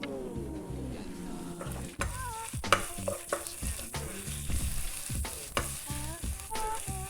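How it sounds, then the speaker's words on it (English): Spices frying in a pot for Fijian Indian dal, a close crackling sizzle under repeated sharp stirring scrapes and clinks against the pot, with no one talking. "Just keep stirring, just keep stirring."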